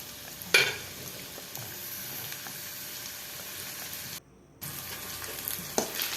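Chopped onion and tomato sizzle steadily in a hot pan, with occasional scraping stirs and a brief pause in the frying sound partway through.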